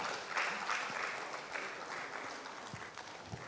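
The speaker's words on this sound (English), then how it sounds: "Put your hands together and keep clapping for them." An audience at a business forum and expo applauds, a steady, fairly distant wash of clapping that holds for a few seconds without clear talk over it.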